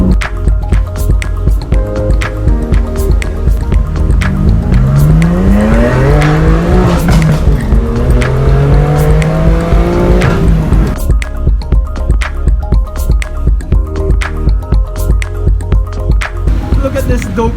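A Lamborghini Huracan with an FI exhaust revs and roars loudly on a mountain road, pitch sweeping up and down through gear changes, with crackling exhaust pops along the way.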